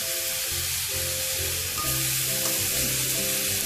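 Pork belly fries in a pan with fish sauce and no added oil, giving a steady close sizzle and crackle that grows a little louder partway through, with no voices.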